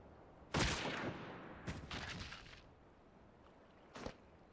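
Gunfire in the video game Final Fantasy XIV: a loud burst of shots, a second cluster moments later, then one fainter shot, over quiet background with no voices.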